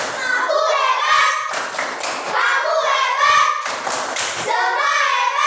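Classroom children clap a rhythmic 'tepuk hebat' praise pattern in two short bursts of quick claps, mixed with their chanting voices and a teacher talking between the bursts.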